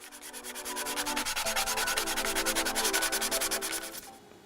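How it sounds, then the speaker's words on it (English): A rotary tool fitted with a sanding drum grinds against a prop rifle, giving a loud, close, rapidly pulsing abrasive whir that holds steady for about four seconds before stopping. "I'm using my rotary tool with a sanding drum and hand sanding"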